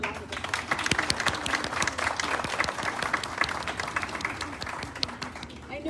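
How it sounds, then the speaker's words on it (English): Audience applause at the launch of a community center vaccination site, many hands clapping in a steady, fairly close patter with a few sharp louder claps and some voices mixed in. "So please give him a big round of applause."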